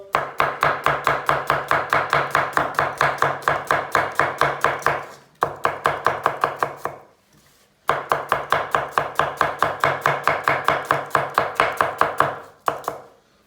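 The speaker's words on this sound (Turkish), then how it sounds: "Soğanları fazla iri doğramıyorum ki yemeğin içinde e, fazla şey yapmasın, kaybolmasın." Rapid, even knife chops on a cutting board while chopping onions, in two long bursts separated by a short pause, crisp and close with no voices.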